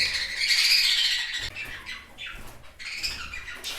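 A bird squawks loudly and harshly in repeated bursts, with wings flapping and scuffling close by.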